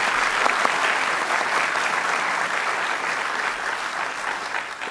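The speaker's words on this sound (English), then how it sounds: "A final round of applause for both of them for their excellent debate tonight." Audience applause following a debate on whether Jesus rose from the dead, a sustained dense clapping that stays loud and even throughout, with no voices over it.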